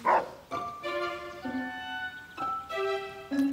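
A cartoon dog gives a short run of high, yippy barks and whimpering yelps, close and clear, with no one talking over it.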